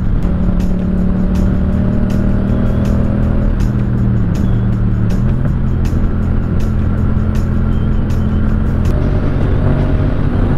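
A Yamaha MT-07 motorcycle pulls hard in first gear, its engine note loud and close with steady harmonic tones that dip briefly and then climb again, alongside continuous wind and road noise.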